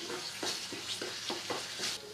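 Spice paste for a white chicken gravy being fried on full flame, a steady close sizzle with repeated stirring scrapes at a regular rhythm, no voices.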